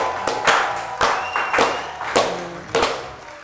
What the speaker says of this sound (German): Da muss sogar ich klatschen.